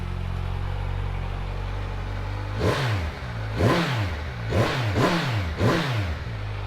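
A 2019 Kawasaki Z1000SX performance tourer motorcycle starts up after a steady idle-like hum, then gives four quick, loud throttle blips in a rhythmic rev pattern, close to the microphone with no talking.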